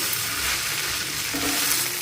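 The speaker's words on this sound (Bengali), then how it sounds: "এদিকে সয়া সস টমেটো সস সব দেওয়া দিলাম এখন ভালো করে লাইরা নি" Chow mein with soy sauce and tomato sauce sizzles loudly in a small wok as it is stirred, a steady frying hiss with scraping from the stirring and no talk.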